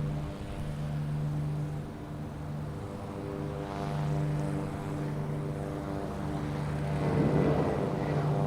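A JetBlue Airbus A320 airliner taking off at Boston Logan airport, a steady loud droning engine roar with a tonal whine that swells toward the end, heard from a distance without any talking.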